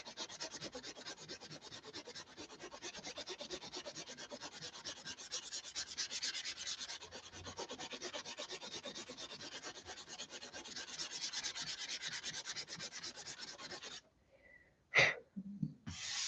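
Steady close rubbing of hand sanding during repair of a Tucker XL wing, a continuous scratchy rasp for most of the stretch that stops near the end, followed by a few brief knocks.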